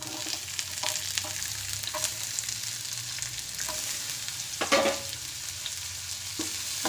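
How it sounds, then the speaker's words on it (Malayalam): Chopped onions fry in a pan for a stuffed capsicum gravy, a steady close sizzle with intermittent scraping and clinking of a spoon stirring, with no voices. "എന്നിട്ട് അരിഞ്ഞു വെച്ചിരുന്ന സവാള അതിലേക്ക് ഇട്ട് കൊടുക്കാം."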